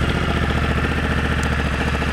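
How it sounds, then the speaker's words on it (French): A 2022 Honda Africa Twin motorcycle engine idles close by, a loud, steady, even throbbing pulse with a mechanical clatter, heard alone without talking. "on écoute un petit peu ce que donne le moteur"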